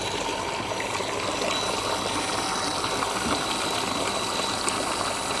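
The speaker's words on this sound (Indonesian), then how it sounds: "Kenceng banget tuh airnya." Strong water flow from a switched-on water pump, rushing as a steady, continuous broadband stream at an even level throughout, with no talking.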